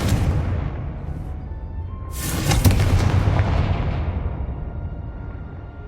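A Confringo fire spell bursts in Hogwarts Legacy, a sharp explosive crack around the middle with a booming rumble that decays slowly over a steady ambient bed.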